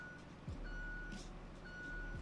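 Truck reversing beeps in the road-building game RoadCraft: two long steady electronic tones, each sustained about a second, over a constant low engine rumble with brief hissing bursts.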